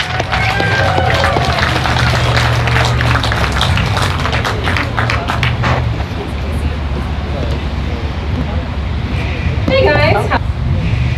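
Comedy show crowd applauding as a female comedian takes the stage, a sustained wash of clapping and cheering with voices mixed in that thins out and fades, followed by scattered claps near the end.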